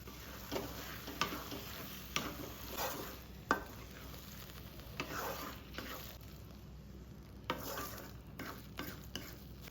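Gongura sour greens and crushed garlic sauté in a pan, with quiet sizzling and intermittent scraping stirs and taps of a spoon, fairly faint and close, with a steady high hiss.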